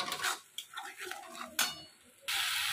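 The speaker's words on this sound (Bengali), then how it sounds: "ভালো করে মশলাটাকে কষে নেব।" Spice masala of turmeric, chili and coriander powder being fried in a pan, with metal spoon scrapes and clinks against the pan over a low sizzle and a brief spoken voice.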